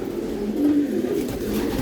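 Racing pigeons coo steadily and close in a loft in Mirpur, Dhaka, a low continuous throaty murmur with no voices.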